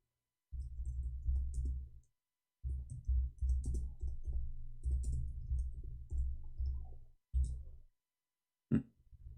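Bursts of clicking come from a computer keyboard being typed on, forming several irregular runs of keystrokes separated by short silences.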